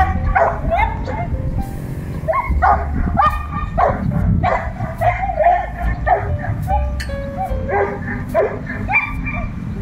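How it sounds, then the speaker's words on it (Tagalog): A dog barks and yips angrily, repeatedly in short bursts, close by, over steady background chatter from a crowd at a food park. "Nagagalit yung aso."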